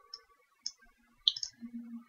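A few sharp, quiet mouse clicks in pricing software, spaced out and isolated against near silence.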